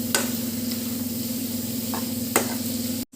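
Chettinad chicken roast frying in separated oil, a steady low sizzle and bubbling close up with a steady hum beneath, a few sharp spatters or clinks, then a brief cut near the end.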